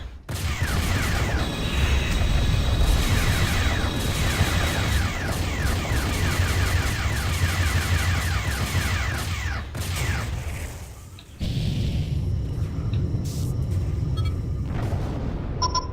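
Space-combat weapon fire in FreeSpace 2 during an attack on ship subsystems: rapid, repeated laser bursts over a steady engine drone, close and continuous, with a brief cut and a few heavier booms near the end.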